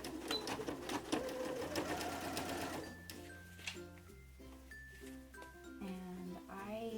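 A sewing machine rapidly stitches an elastic casing on a pocket diaper in a loud, continuous buzzing run for about three seconds, then stops and a person talks close to the microphone.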